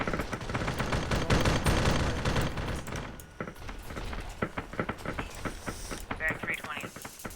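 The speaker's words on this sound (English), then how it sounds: "Shots behind." Gunfire erupts behind a squad in the Arma 3 video game, a dense burst of rapid shots followed by scattered sharper reports, with voices talking over it.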